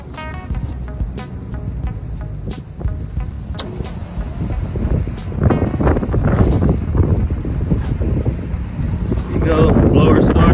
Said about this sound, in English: Go, blower startup, no squealing, no sound, nice and smooth.